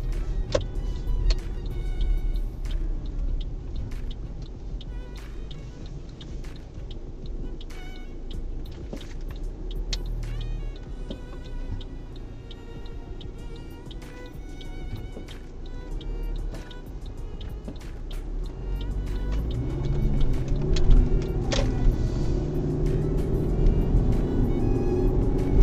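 Steady low rumble of a car driving on a road-test route in Oshawa, Ontario, with engine and road noise filling the whole stretch and swelling slightly louder toward the end.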